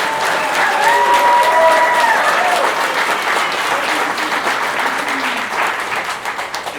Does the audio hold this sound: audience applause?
yes